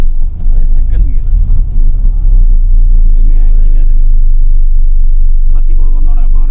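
A Tata Altroz carrying six people climbs a hill bend in second gear, its engine a loud, steady low rumble heard from inside the car, with people talking over it.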